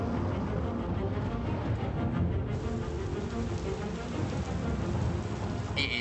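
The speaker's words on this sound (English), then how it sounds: "A huge storm." Rain and thunder of a huge storm in the video game Star Citizen, a steady dense roar of heavy rainfall with low rumbling thunder underneath, constant and loud throughout.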